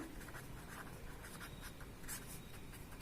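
Pen or chalk scratches out a class 8 maths problem, soft rhythmic strokes and taps in short bursts, faint and close, with no talking.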